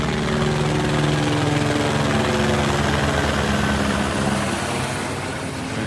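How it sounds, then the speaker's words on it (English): Steady, loud rotor and engine drone of search helicopters overhead during a Texas flood, a continuous low throbbing wash that holds constant throughout with no voices. "These are search helicopters."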